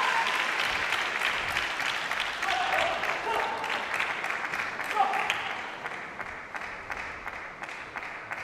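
Audience applause at a women's singles table tennis quarterfinal of the 2013 Korea Open in Incheon, a sustained dense clapping from a crowd that slowly thins out, with a commentator's voice over it.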